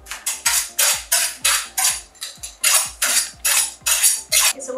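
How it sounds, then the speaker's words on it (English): A knife chops peppers on a cutting board in a steady series of about a dozen sharp, close knocks, each with a bright clattering edge, evenly paced with no one speaking. "I can look at the camera and just continue chopping like this"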